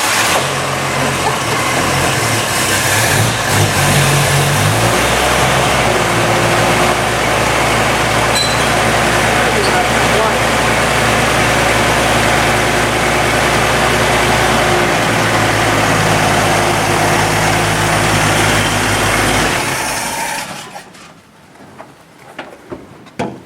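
A choked engine turns over and catches quickly, then settles into a loud, steady rumbling idle close by, before the sound drops away abruptly near the end.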